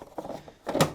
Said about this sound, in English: you can refit your soap dispenser drawer